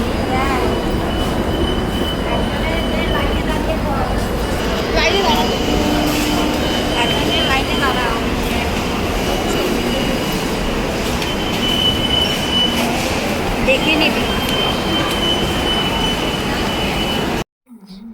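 Local train arriving at Dum Dum station, a loud continuous rumble of wheels on rails with high squealing from the wheels. The noise stays steady and close, then cuts off abruptly at the end.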